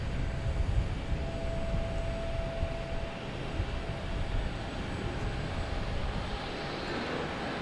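A JetBlue Airbus A321 arriving from LAX at Boston Logan makes a steady, broad engine roar with low rumble, holding fairly constant in loudness throughout.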